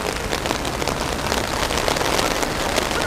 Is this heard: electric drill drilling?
no